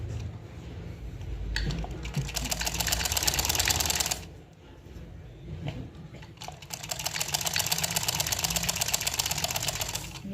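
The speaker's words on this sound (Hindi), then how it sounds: "ये सिलाई लगा दी है" Sewing machine stitching a zip onto trousers, a close rapid rattling run in two long bursts separated by a short pause, steady and fairly loud, no talk.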